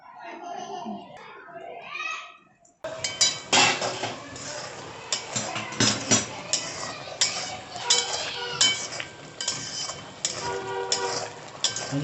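A fork pricks holes in fried potatoes in a dish while making dum aloo, giving close, irregular metallic clicks and taps against the pan that continue steadily after a voice at the start.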